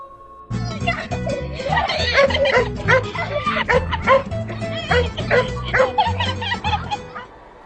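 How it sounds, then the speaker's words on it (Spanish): A chicken making dog-like barking and yipping calls, repeated in uneven bursts close by, over a steady background with some voices. "Aquí vemos la gallina que ladra"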